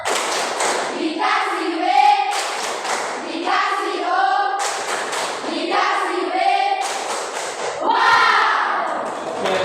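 Rhythmic group hand-clapping game led in Indonesian, with claps and thumps falling in repeating patterns under a chanting voice and children's voices throughout.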